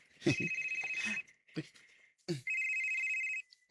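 A telephone rings for an incoming call: two long, steady electronic rings separated by a pause, close and fairly loud, with brief human voice sounds before and between them.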